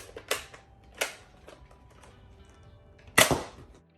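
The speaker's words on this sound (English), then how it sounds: "you pull this back and release and press the trigger" A Modulus Ghost-Ops Shadow ICS-6 Nerf blaster fires three sharp, close snaps, evenly spaced early on and a louder one near the end, with small mechanical clicks between and no talking.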